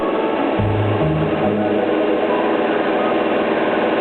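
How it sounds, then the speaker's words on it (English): A tractor tills a muddy rice paddy before transplanting, its engine giving a steady, close, low drone with a few brief changes in pitch early on and no voices. "The tractor moves steadily forward, crushing the muddy clods into finer particles."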